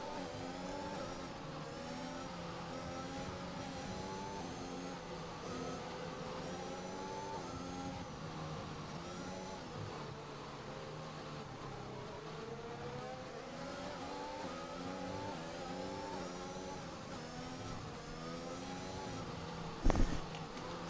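Race cars in a racing video game at Bahrain, several engines droning and revving steadily with rising and falling pitch for the whole stretch under virtual safety car conditions, with a brief sharp bump near the end.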